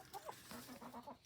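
Backyard laying hens cluck in short, soft bursts, several birds close by making quiet murmuring calls in an uneven rhythm, fairly faint with no voices.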